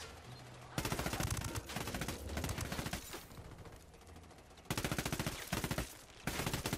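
Gunfire in the video game Ghost Recon Wildlands crackles in dense, continuous automatic bursts, loud and sustained with brief dips between volleys.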